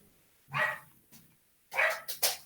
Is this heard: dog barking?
yes